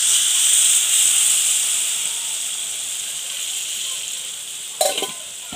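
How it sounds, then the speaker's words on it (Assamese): Potatoes sizzle steadily in a frying pan as chicken is cooked at home, a loud continuous hiss that softens slightly before a brief sputtering burst near the end as hot water is poured in. "আৰু এতিয়া মই গৰমাই থোৱা পানীখিনি ইয়াতে দিম।"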